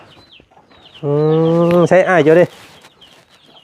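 A chicken lets out a loud, drawn-out squawk close by, rising then breaking into choppy clucking notes before stopping, with faint background sounds and a brief voice around it.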